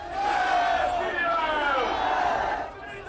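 Large crowd at a Yogi Adityanath election rally in Bihar, chanting the Jai Shri Ram slogan as a helicopter lands; a dense, steady roar of many voices with rising and falling shouted tones, loud and continuous throughout.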